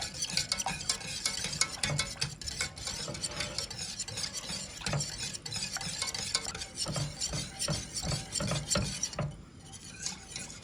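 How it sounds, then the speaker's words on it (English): A spoon stirs a thickening milk-based sauce in a pot on a stove, with steady scraping and sloshing plus faint sizzling and occasional clinks of utensil against the pan, continuous and close. "keep stirring"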